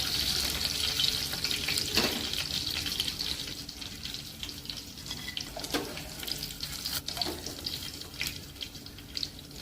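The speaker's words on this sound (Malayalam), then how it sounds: "മാങ്ങ ഇതുപോലെ നമ്മളൊന്ന് വറുത്തെടുത്തിട്ടുണ്ട്." Mango pieces fry in hot oil for a Kerala-style oil mango pickle, a close, continuous sizzling hiss broken by occasional sharp crackles and pops, with no talk over it.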